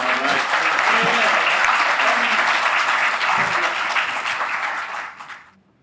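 Dense, sustained applause from a large convention audience of the Federation of the Blind, loud and even for several seconds before tapering off and fading to silence.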